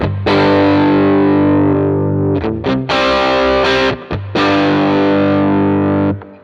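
Distorted electric guitar played through a Quad Cortex CorOS 2.1 amp model on channel 2, heavy with effects and a dark cabinet tone. Sustained chords ring loud and close with a few brief breaks and restrikes, and no one talks.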